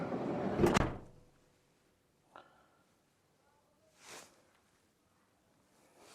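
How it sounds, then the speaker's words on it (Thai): A single heavy sliding door of a Toyota Hiace Commuter van slides and shuts with a loud thud near the start, followed by quiet interior sounds and a few faint bumps. "เราปิดประตู"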